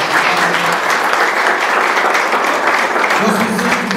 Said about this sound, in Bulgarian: Нека да го пляскаме,